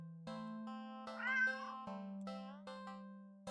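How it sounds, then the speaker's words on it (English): A stranded black cat in a video game gives a clear, drawn-out meow with a rising, wavering middle, heard alone against silence and fairly quiet. "Not many different ways for a stranded black cat to look, after all."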